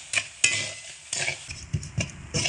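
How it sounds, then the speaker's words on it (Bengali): Sugar is stirred hard in a pan as it caramelizes, heard as repeated close scraping strokes of a spatula against metal in quick irregular bursts, with no voices. "এবার অনবরত নাড়াচাড়া করে চিনি একদম লাল করে ভেজে"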